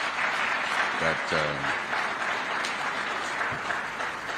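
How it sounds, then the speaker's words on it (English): A conference audience at the ICTAZ Tech Conference claps steadily for the speakers, a dense, even wash of applause filling the room while a voice briefly speaks over it. "I think we must clap for all the speakers"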